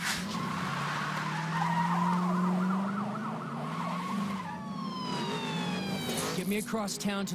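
Police siren wails in The Crew racing game, rising and falling over a loud car engine and tyre skids, with someone talking over the game sound.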